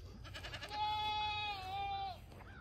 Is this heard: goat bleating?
yes